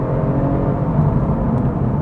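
A Genesis G70 car engine in sport mode drones steadily at a low, even rumble, close and loud, with no change in pitch.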